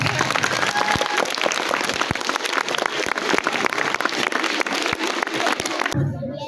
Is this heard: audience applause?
yes